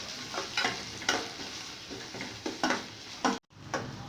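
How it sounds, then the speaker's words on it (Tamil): Onions sizzle in oil in a pan while being stirred, a close steady crackle punctuated by regular scraping strokes of a utensil. "அடுப்பை பற்ற வச்சுட்டு எண்ணெய் ஊற்றி வெங்காயத்தை போட்டு தாளிக்கணும்."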